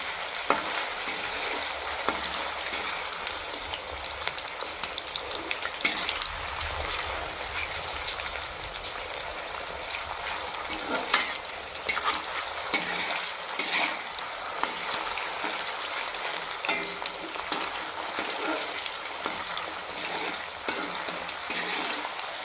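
Potatoes frying in hot oil in a pan, with a steady dense sizzle and occasional scraping as they are stirred, continuous and loud throughout with no talking.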